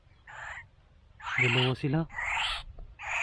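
A bird calls outdoors in a rural Ilocano province, giving several hoarse, owl-like hoots spaced a second or so apart. Nearby people speak between and over the calls.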